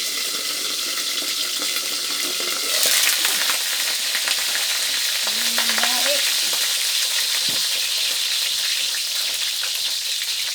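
Eggplant fries in spattering hot oil, giving a steady loud sizzle that crackles and pops, with a burst of spitting near the three-second mark; no one talks.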